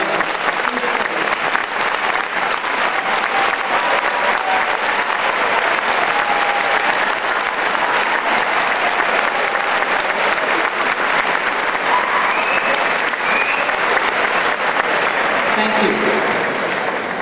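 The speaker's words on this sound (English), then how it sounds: "Please stand so that we can give you a round of applause." A crowd at a 2007 high school graduation ceremony applauds steadily and loudly, sustained clapping filling the hall without a break.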